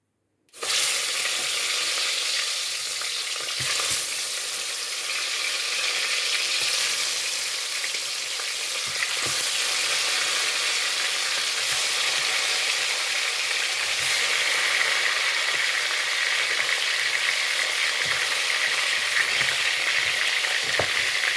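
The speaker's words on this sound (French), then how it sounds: "dans une casserole au feu, je vais rajouter mon poulet." Steady, loud sizzling of chicken frying in a hot pan, a dense crackling hiss that continues unbroken with occasional small pops throughout.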